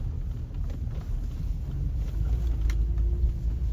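A small car drives over a potholed, patch-repaired road, heard from inside as a continuous low rumble and road noise with faint bumps and no talk.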